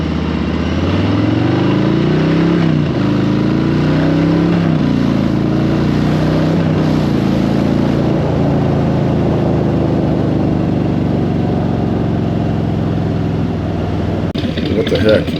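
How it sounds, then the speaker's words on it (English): A 2022 Harley-Davidson Street Bob 114 motorcycle rumbles loud and steady, with a low throbbing idle that swells in a few rev rises early on before settling, the engine droning continuously throughout. "It's a Harley, and it's loud."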